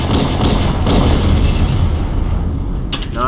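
Explosion in the first-person shooter Halo: Combat Evolved, a loud booming blast with a rumbling, noisy tail that fills the moment and slowly thins out, with a faint crackle near the end.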